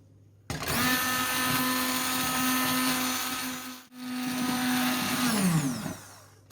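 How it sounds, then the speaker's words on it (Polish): A blender purées spinach sauce with a sharp motor start into a loud, steady whirring whine, briefly dipping mid-run before resuming, then spinning down with a falling pitch as it switches off. "za chwilę zmiksuję tutaj blenderem"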